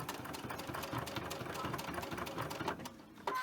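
A sewing machine back stitching a small drawstring bag, a steady rapid mechanical whir close by, faint and uninterrupted, ending with a brief click.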